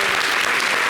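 A short burst of studio audience applause for a guest on a French-language TV talk show, with dense steady clapping throughout.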